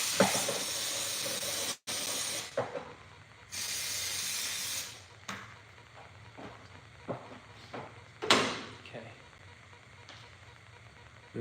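Brake cleaner hisses from an aerosol can onto TRX450 ATV parts in several bursts, loud and close, with pauses and small clatters between sprays.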